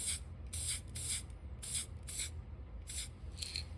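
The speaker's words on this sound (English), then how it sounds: "And now we're just going to spray this balloon." Spray paint hisses in short repeated bursts as a balloon is painted through a stencil, roughly seven quick sprays with brief gaps over a low background rumble, with no talk.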